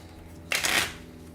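A deck of Worldbreakers game cards is shuffled once, a brief close riffle lasting about half a second against a quiet background.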